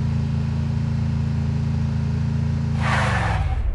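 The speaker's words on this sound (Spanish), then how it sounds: "Y voy pilotando este cochecito." A small car's engine hums at a steady drone while driving in the video game Free Fire MAX, close and constant, with a brief whooshing burst near the end.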